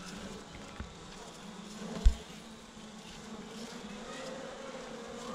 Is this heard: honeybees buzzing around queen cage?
yes